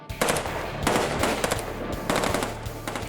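Three fully automatic machine guns fire at a phone book in sustained, rapid bursts. The gunfire is loud and close, with a dense chattering rhythm and no talking.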